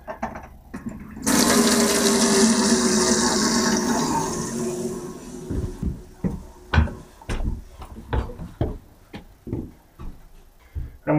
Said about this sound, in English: And we'll run our hot tap in the bath as well.